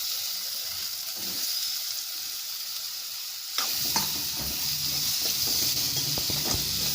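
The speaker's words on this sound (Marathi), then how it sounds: "टोमॅटोला सुद्धा तेलात व्यवस्थित परतून घेऊया." Tomatoes frying in hot oil with red chilli powder for a village Malvani-style gayvda bhaji, a steady close sizzle that swells into louder crackling and stirring clatter partway through, with no voices.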